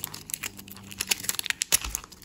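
A Mini Brands mystery capsule toy by ZURU is opened along its zipper, giving a string of crinkly, rasping plastic clicks and tears at close range, with no talk.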